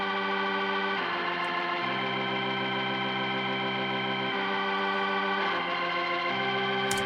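A distorted Hammond B3 organ track, soloed from a late-1960s style mix, holds sustained chords that shift every second or so, steady and loud throughout with a gritty, buzzing edge and no voices.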